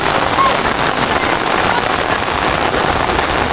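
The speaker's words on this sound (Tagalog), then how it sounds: "Mahina nga yung ulan." Steady light rain patters and hisses on surfaces near a flooded lake area, a dense wash of drops with no pauses or voices standing out.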